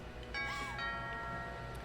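A doorbell chimes in the What Remains of Edith Finch video game, a faint ringing tone with a short melodic ding over quiet background music.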